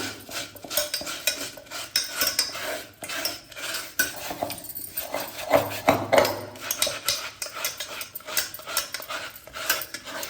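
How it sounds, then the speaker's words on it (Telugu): A bowl is scrubbed with dish liquid and a scrubber pad, giving repeated close rubbing and scraping strokes with light clinks of the bowl, in an uneven rhythm with no talk. "కొంచెం లిక్విడ్ వేసి ఈ పీస్ వేసి రుద్దుతున్నా"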